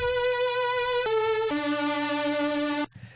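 Sustained synth patch from NI Massive, dry with no effects yet, holding bright buzzy harmonic tones that step down in pitch three times across the phrase, steady and loud, then cutting off abruptly.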